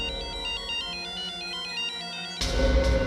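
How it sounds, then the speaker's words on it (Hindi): A mobile phone ringtone plays a repeating electronic melody inside an empty bungalow, loud and steady, then breaks off into a burst of louder mixed noise near the end. "ये सेलफोन किसका बजा?"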